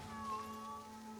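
In Assassin's Creed Shadows, a cat near a temple shrine lets out a single drawn-out meow, faint and steady, over a low sustained game ambience tone.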